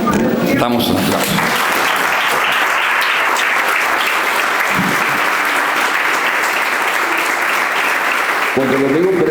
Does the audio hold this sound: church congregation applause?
yes